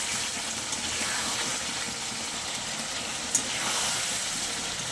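Chicken curry sizzling steadily in a pan with charmagaj (melon seed) paste, a continuous close frying hiss with a brief clink partway through, no voices.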